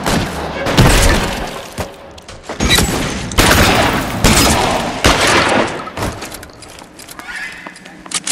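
A shootout in the video game L.A. Noire crackles with loud gunshots and heavy volleys, several sharp blasts and shattering impacts spread over the stretch, with game voices briefly mixed in.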